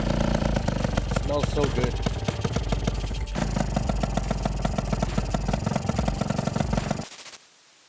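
A small Adly motorcycle engine, running again after a kick start, idles with a loud, rapid, uneven popping that continues steadily under a brief spoken remark before cutting out abruptly near the end.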